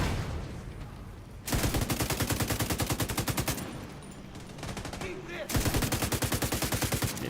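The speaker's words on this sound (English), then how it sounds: "Getting hit with LMG bullets and still gets his grenade off." Sustained light-machine-gun fire in The Division 2, rapid evenly spaced rounds in long bursts with a short lull in the middle, loud and close, with faint talk underneath.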